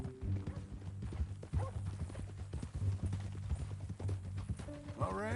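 Horse hooves clip-clopping in Red Dead Redemption 2, a steady close walking rhythm of hoof strikes continuing under men's conversation, with a brief snort near the end.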